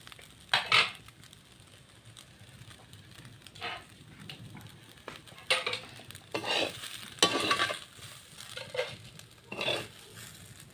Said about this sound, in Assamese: চাউলখিনি এতিয়া ভাজি পেলাই থলোঁ